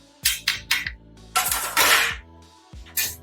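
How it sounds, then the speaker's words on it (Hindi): A metal lid and pot clatter on the stove while a chicken pulao with lemon cooks: a few sharp clanks, then a louder, longer rattle as the lid settles, followed by one final clink, with no talking. "अब मैं इनको पकने के लिए ना ढक देती हूँ"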